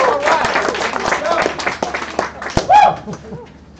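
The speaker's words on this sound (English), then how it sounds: "Come on, give that an applause." A lively live-stream audience claps and cheers with whoops and scattered laughter, the applause mixed with overlapping voices and excited shouts that trail off toward the end.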